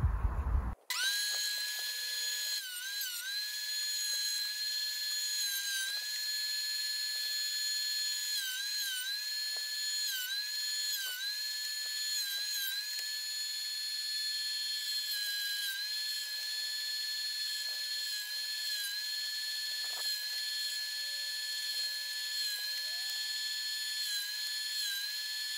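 Wooden panels for a balancing wine bottle holder are planed down slowly by a machine with a loud, sustained, high-pitched whine. A sharp start is followed by steady droning with small dips in pitch as the wood feeds through.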